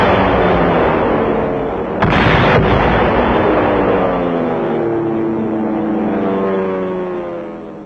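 Explosions from low-level B-25 bombing in archival Burma war footage, a loud, continuous roaring rumble with a sharper burst near the start, fading slowly.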